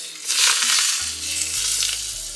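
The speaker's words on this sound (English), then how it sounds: "started frying it a little bit" Loud, crackling sizzle of bacon frying in hot grease, with a low hum and some clattering stirs underneath, close and continuous.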